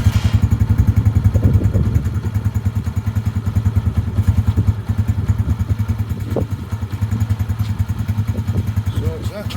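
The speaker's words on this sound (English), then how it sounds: "why don't I just start the engine and see what that does to it." A motorcycle engine catches and settles into a steady, throbbing idle close by, with a loud regular pulsing beat and faint clatter throughout.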